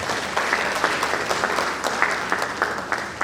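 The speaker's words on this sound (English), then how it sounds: "A round of applause for them." An audience at a university event applauds, a dense, steady patter of many hands clapping at moderate volume throughout.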